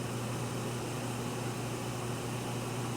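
A St. Croix New Yorker pellet stove room fan, freshly cleaned, lubricated and reinstalled, runs with a steady, smooth broadband whir and a faint low hum, continuous and even throughout with no talking.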